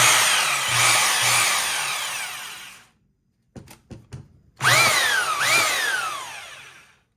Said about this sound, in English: let's try just drill mode.